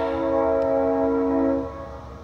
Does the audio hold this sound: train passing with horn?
yes